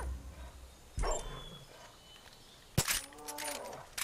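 A dog barks in Far Cry 5 in open wilderness near a bear. Two sharp, fairly close barks come a couple of seconds apart, the second followed by a brief growling tail, over quiet outdoor ambience.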